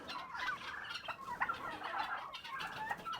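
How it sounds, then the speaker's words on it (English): Turkeys gobbling on a farm, several overlapping rapid warbling gobbles from a group of birds, fairly close and loud, with no talking. "Turkeys look pretty good."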